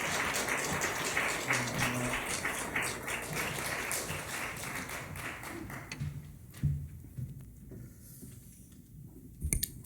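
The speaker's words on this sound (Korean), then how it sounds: "목사님 나오실 때 우리 큰 박수로 환영하면서 맞이하도록 하겠습니다." A Sunday church congregation in Ansan welcomes the pastor with loud, dense applause that holds for several seconds and then thins into scattered claps and taps.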